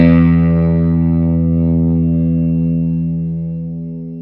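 Fender American Vintage II 1961 reissue electric guitar played through a clean amp with no effects and the EQ knobs centered, a single strummed chord ringing out loud and sustaining as it slowly decays, with no voices.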